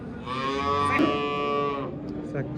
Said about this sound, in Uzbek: Sigirlar ko'p.